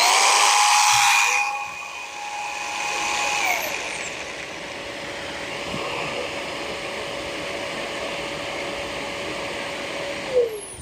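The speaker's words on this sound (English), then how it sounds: "So I turn on my vacuum by hitting the saw." A shop vacuum for drywall dust starts up as a saw is switched on, a loud whine that settles into a steady hum and runs on to the end, with a brief bump near the close.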